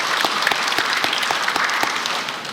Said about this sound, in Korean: 우리 박수할까요?